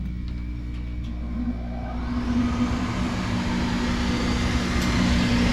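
A CO2 laser's exhaust vent fan switches on and spins up, with a rising broadband whoosh over a steady low hum that then holds as a loud, constant roar.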